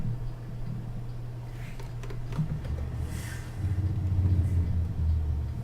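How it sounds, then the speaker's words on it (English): Truck engine brake in American Truck Simulator, a low rumbling exhaust drone that grows louder and heavier midway, with faint ticking over it. "I love the sound of the Jake brake."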